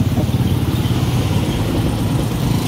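Motorcycle with a broken clutch idling close by, a steady low rumbling engine with a dense, even putter that holds loud and unchanging throughout.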